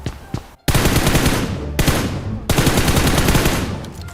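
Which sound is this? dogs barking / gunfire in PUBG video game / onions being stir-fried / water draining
gunfire in PUBG video game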